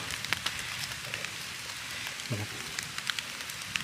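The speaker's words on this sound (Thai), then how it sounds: "ฝนมาแล้วครับผม" Rain pattering on leaves and surfaces while mushrooms are picked in the forest, scattered close drops and crackles over a steady soft hiss, with a brief low rustle or voice partway through.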